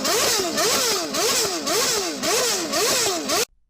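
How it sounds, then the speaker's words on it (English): A BMW M1000 RR superbike with a 1000cc engine revs repeatedly, its pitch rising and falling in quick regular sweeps about every half second, loud and close, before cutting off abruptly. "Check out the BMW M1000 RR."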